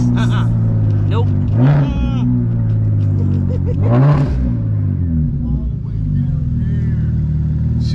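Single turbo BMW 335i engine inside the car, a loud low drone with two sharp rev surges that rise and fall, voices talking over it.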